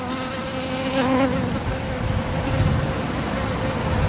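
A bee buzzes loudly and continuously at close range outdoors, its steady drone wavering slightly in pitch as it moves about, with no voices.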